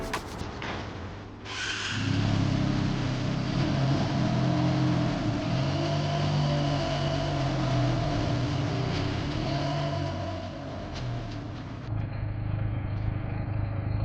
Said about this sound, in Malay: now we're going to take it out of the brand new showroom for a small test run